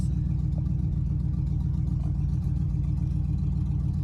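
An old Packard rumbles along slowly around a parking lot, its engine giving a steady low throb close by without any talking.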